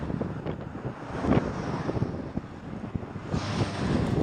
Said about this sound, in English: the wind was back.